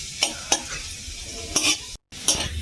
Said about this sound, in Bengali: আদাটা ভালো করে ভাজা হয়ে গেছে,